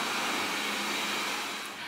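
A household vacuum cleaner runs steadily indoors, giving a continuous broadband whir close to the microphone that eases off slightly near the end, with no talking.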